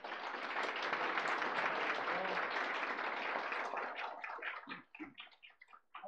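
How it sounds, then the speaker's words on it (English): A round of applause for Barb at a Slow Food UW-Stout gathering, a dense burst of clapping from a modest crowd that thins into scattered individual claps toward the end. "Let's give Barb a round of applause here."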